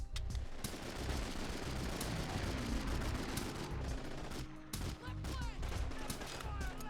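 Call of Duty 2 weapon fire, a machine gun in the style of a .30 cal, in sustained rapid bursts that stay loud and dense throughout, broken by a brief pause near the end.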